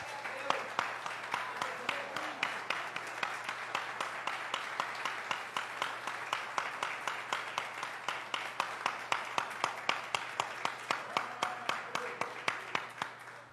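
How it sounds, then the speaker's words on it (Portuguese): A church congregation claps in a steady, even rhythm, the sharp regular beats of a crowd clapping together running continuously at moderate loudness. "Você pode mais uma vez aplaudir o Senhor com alegria?"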